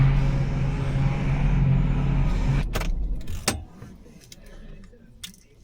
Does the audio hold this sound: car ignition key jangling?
yes